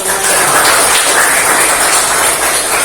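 Classroom applause fills the room, a dense, steady wash of many hands clapping together, loud and close throughout with no break.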